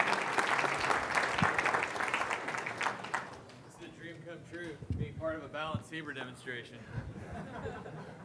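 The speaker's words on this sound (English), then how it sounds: "A round of applause for our volunteer." Audience applause for a volunteer at a GNU Radio conference talk on wireless hacking, loud and dense clapping for about three seconds that fades, followed by scattered chuckles and laughter over murmured talk.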